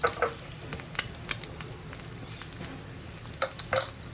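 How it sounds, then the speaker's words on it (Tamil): Two cracked eggs with a pinch of turmeric powder fry in a pan, giving a steady close sizzle broken by light stirring scrapes and a few clinks of a utensil against the metal, with no talking. "இதில் ரெண்டு முட்டையை உடச்சி ஊற்றிருக்கேன் அதுக்கடுத்து அதில் கொஞ்சோண்டு மஞ்சள் தூள் போட்டுக்கோம்"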